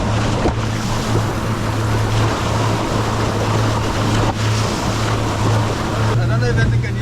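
Fishing boat engines drone steadily at sea off Puerto Vallarta, Mexico, a continuous low hum that runs throughout with wind and water wash mixed in.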